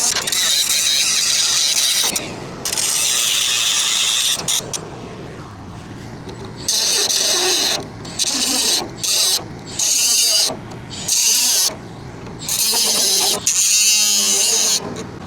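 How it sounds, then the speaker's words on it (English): A small Milwaukee angle grinder grinds cracks out of the metal of a bush hog mower in repeated bursts, a loud high whine switching on and off in roughly second-long passes, close and without talk. "Go ahead and grind them cracks out pretty good. I love these little Milwaukees."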